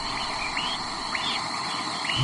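Dense layered birdsong from a large chorus of Swainson's thrushes, repeated rising, fluting phrases over a steady insect-like hiss, many birds calling at once at moderate distance.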